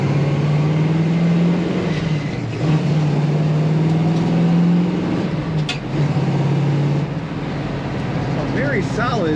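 A 1971 AMC Hornet SC/360 drives along, its engine a steady close drone that rises and falls with shifts while someone talks over it.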